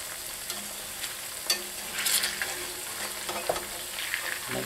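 Potatoes, peppers and onions frying in oil for Potatoes O'Brien, a soft, steady sizzle with occasional scrapes and taps of a utensil turning the pieces in the pan.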